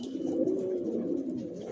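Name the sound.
pigeons cooing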